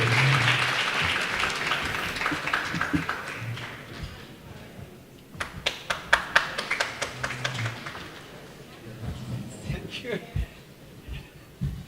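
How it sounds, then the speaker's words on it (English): Audience at a Pakistani-American community event applauds the Pakistani ambassador to the United States, starting as dense, loud clapping that thins into scattered claps and fades, with crowd murmur underneath. "Can we please give him a round of applause?"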